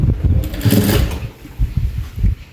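A sewing machine stitches a round belt blouse, running loud and close with a low, rhythmic chugging that pulses in short uneven runs.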